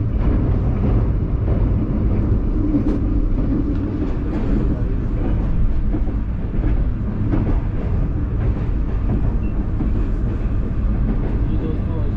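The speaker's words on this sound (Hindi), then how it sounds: "जी ट्रेन हमारी पास थ्रू हो रही है खैरपुर रेलवे स्टेशन से।" A Green Line Express train rolls through Khairpur railway station, a loud, continuous low rumble of wheels and carriages with faint clattering rail joints throughout.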